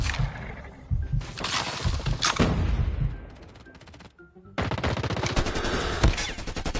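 Rapid gunfire from a shooter video game rattles in dense, loud bursts, briefly easing around the middle before resuming at full intensity.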